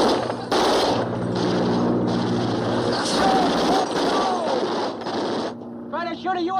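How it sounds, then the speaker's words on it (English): Rapid machine-gun fire bursts out during an air raid, loud and continuous for several seconds alongside shouting voices, then cuts off as the shouting continues. "Chuck, cease fire!"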